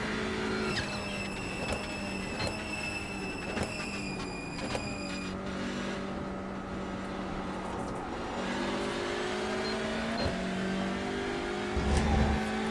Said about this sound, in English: I am driving a Hyundai Elantra.